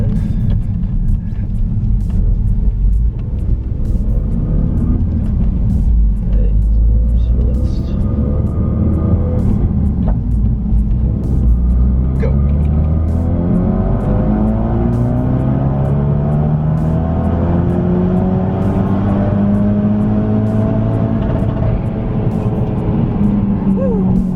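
Tuned Ford Focus RS accelerating hard on a road run, a loud close engine roar climbing steadily through rising gear pulls with an ever-present rumble.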